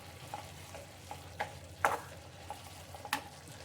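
Chutney of grated coconut and jaggery fries in a pan, with a soft steady sizzle and a few brief scrapes as it is stirred, fairly quiet and with no voices.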